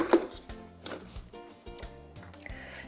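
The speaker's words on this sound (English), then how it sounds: "Next, we're going to go ahead and chop our whole toasted almonds." Knife chopping whole toasted almonds on a board, a series of soft, uneven thuds and crunches close by, with no talking.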